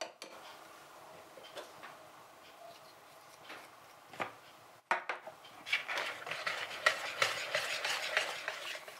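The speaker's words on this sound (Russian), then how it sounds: "Будем постепенно замешивать тесто." Dough of sifted flour and vinegar-slaked baking soda being mixed by hand in a bowl, soft irregular scraping and tapping that grows busier and louder in the second half.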